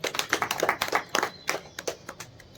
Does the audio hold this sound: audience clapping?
yes